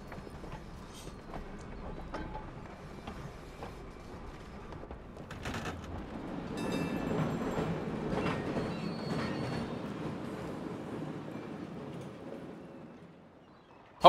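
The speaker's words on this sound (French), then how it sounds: "Gentil tramway, attends." Tram rumbling along its rails in the Red Dead Redemption 2 video game, with clip-clopping hooves and clattering wheels that swell to a steady roar midway, then fade.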